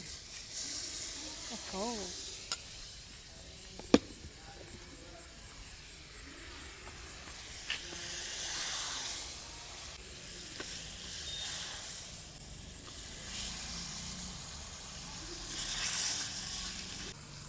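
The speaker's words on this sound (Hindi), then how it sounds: "तो बटर है और मैं इसे लेके जा रही हूँ कढ़ाई में।" Butter sizzles and hisses in a hot kadai, a soft, steady frying crackle that swells and fades over time, with a couple of sharp clanks and a brief exclamation from a woman nearby.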